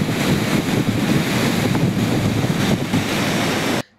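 Water released from a dam that is 92% full roars in a constant, loud, broadband rush with wind buffeting the microphone, continuous until it cuts off abruptly just before the end.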